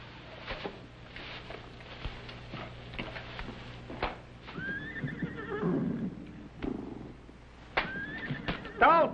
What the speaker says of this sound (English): What do you suppose is bothering them horses?